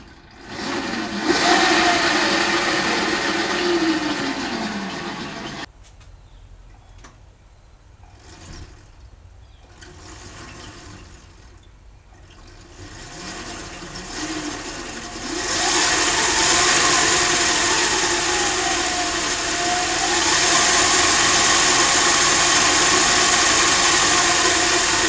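A home-built electric go-kart motor runs alone with a steady, loud whine that sweeps up and down in pitch, drops to a quieter hum for several seconds, then surges back strong and sustained.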